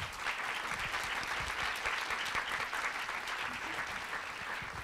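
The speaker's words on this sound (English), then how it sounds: "I want to please give one more round of applause to our wonderful panel." An audience at a conference keynote session gives a panel a round of applause: a steady, even wash of many hands clapping, heard from a moderate distance and sustained throughout.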